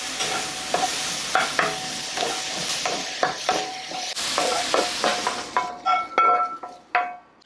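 Vegetables for japchae stir-fried in a pan, loud sizzling with repeated clinks and scrapes of a utensil against the pan, the sizzle dropping away near the end.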